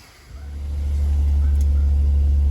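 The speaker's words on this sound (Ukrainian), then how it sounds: "Запускаємо двигун." A Nissan Maxima A33 engine cranks and catches, then settles into a loud, steady low idle rumble close by.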